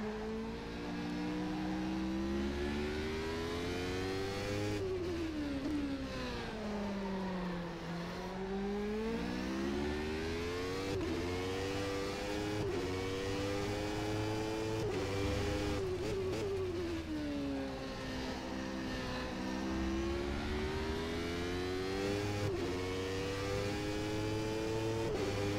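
A McLaren F1 car in rFactor 2, its engine note continuously rising and falling through revs and gear changes, with throttle blips between shifts, loud and sustained.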